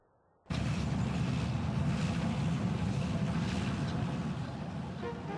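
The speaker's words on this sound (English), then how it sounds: "Wind Force 9, now entering gale zone!" A Force 9 gale at sea from an animated show roars in suddenly and stays loud and continuous, a dense rushing wind with crashing wave noise that fills the scene without pause.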